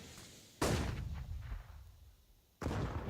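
An HE grenade blows up during a Counter-Strike esports match, two sharp, booming blasts about two seconds apart, each followed by a rumbling decay over faint game ambience.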